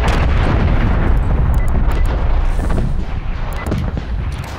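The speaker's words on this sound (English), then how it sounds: "Hostile artillery targeting active. Net call. Incoming artillery." Incoming artillery fire in the Call of Duty Black Ops Cold War video game, a dense, continuous barrage of heavy booms and blasts that rumbles loudly throughout, easing slightly near the end.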